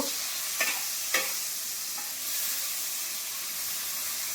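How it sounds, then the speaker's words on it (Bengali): Prawns hit hot oil in a karahi and fry with a steady broadband sizzle, with a couple of sharp stirring clatters near the start, no voices over it. "চিংড়ি মাছটা দিয়ে একটু ভাজি করে নেব"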